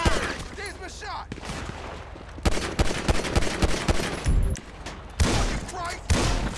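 Repeated gunfire in Grand Theft Auto 5: sharp bursts and scattered single shots, some in quick volleys, loud and close, with intermittent voices between them.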